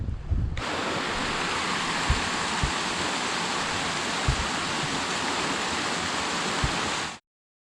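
A mountain stream in the fells around Pavey Ark and High Raise flows in a steady, loud, broadband rush that continues without a break for several seconds, with a few faint knocks underneath and no voices.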